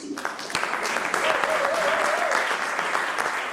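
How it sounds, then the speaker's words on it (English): Audience at an old students' association annual general meeting breaks into steady, moderately loud applause for the AGM and Election Committee, with a faint voice or tone drifting briefly underneath. "I'm waiting for the applause for my AGM and Election Committee."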